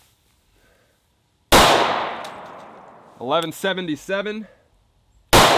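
Two sharp, loud Sig P365 XL pistol shots fired outdoors, the first ringing off into a decaying echo, separated by a spoken voice.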